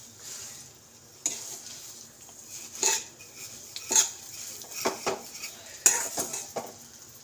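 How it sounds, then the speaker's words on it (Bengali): Something browning in plenty of ghee, with a soft steady sizzle under sharp metal scrapes and clinks as a spoon stirs the pan every second or so, close and without talk. "এটা ভালো করে ভাজা হোক। তো এরকম করে, তো অনেকটা ঘি দিয়েছি"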